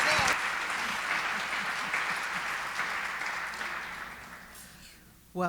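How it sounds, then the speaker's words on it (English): Audience at a panel event giving a warm round of applause, steady dense clapping for about five seconds that thins toward the end. "let's have one more big round of applause and greet Barbara Bullock, Leslie King Hammond, and Lowery Stokes Sims"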